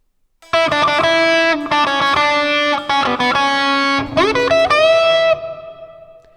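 A distorted electric guitar plays a quick rock lick with bends and sustained notes, loud and upfront, ending on a ringing held note that fades.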